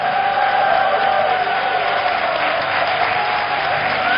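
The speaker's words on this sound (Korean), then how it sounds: "우리 뜨거운 사랑과 또 축복의 박수로 환영하도록 하겠습니다." A church congregation applauds warmly at a special dawn prayer service, welcoming the pastor; steady, dense clapping fills the room throughout, with faint tonal sound underneath.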